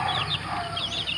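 A white Kelso fighting rooster, five months old, gives short soft clucks close by, a few brief calls in quick succession with no talking.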